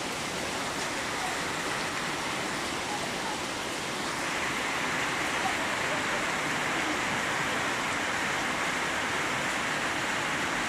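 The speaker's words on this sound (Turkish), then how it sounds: "öfkeli bir dolu, dolu yağışı." A heavy hailstorm pours down steadily in Çağlarca, a dense, continuous hiss and patter of hail falling throughout, loud and unbroken with no one talking.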